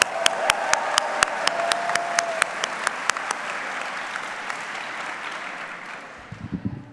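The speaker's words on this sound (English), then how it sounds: "Let's give another round of applause for the Black Bear cheerleaders." Applause for the Black Bear cheerleaders at the UMaine 2024 convocation, a broad crowd wash with sharp individual claps standing out near the start, fading gradually toward the end.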